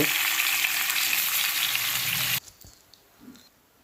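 Rohu fish frying in hot mustard oil in a wok gives a loud, even sizzle that cuts off abruptly after about two seconds, leaving faint clinks and quiet handling noise.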